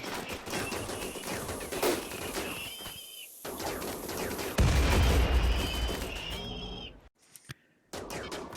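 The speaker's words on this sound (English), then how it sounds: "Now we just pour on the firepower" Rapid bursts of gunfire from a RimWorld battle crackle and stutter over a dense mix, with one heavy booming impact midway and brief drop-outs near the end.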